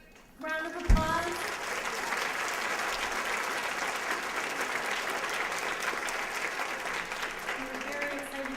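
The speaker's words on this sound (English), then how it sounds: "Let's give him another great round of applause" A keynote audience at a justice conference bursts into applause after a brief spoken line, and the clapping builds quickly and holds as a sustained, even roar.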